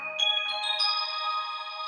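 Bell-like keyboard patch from a sampled collection, played during live church practice: bright chiming tones with stacked sustained harmonics, several quick struck notes at the start and then a long ringing hold, with no voices.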